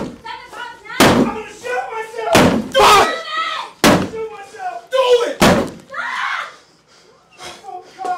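Heavy repeated banging on a locked door, loud irregular thumps mixed with shouting voices close by.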